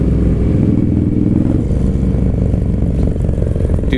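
A Harley-Davidson Low Rider S motorcycle is ridden on the road, its engine producing a loud, continuous low rumble with slight shifts in pitch, mixed with wind noise and no speech.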